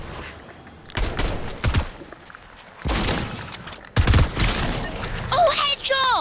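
Loud gunfire bursts in the video game Fortnite, including sniper fire, crack out in several separate volleys. Excited voices talk between and over the shots.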